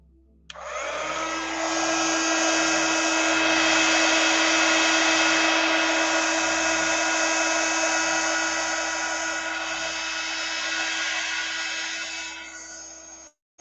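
A hair dryer switches on and blows steadily for about twelve seconds to dry craft work, a loud, close, even whooshing whine that cuts off abruptly at the end.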